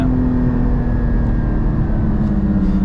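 A Porsche GT4 with a manual transmission under way, its engine and exhaust making a steady, loud, sustained drone with a rising whine heard from inside the car, and no voices over it.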